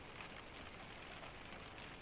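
Steady rain falls on a cabin roof and window during a Scandinavian storm, a dense even hiss that holds level without bursts, close and continuous with no voices.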